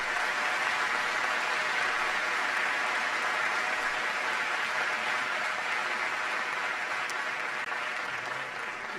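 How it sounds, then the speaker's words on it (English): Sustained audience applause, steady and dense throughout, a large crowd clapping without pause. "Please give Celeste a big round of applause."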